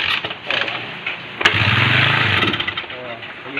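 A motorcycle with a starting fault cranks and briefly catches, its engine sputtering for about a second before dying out, while someone talks throughout.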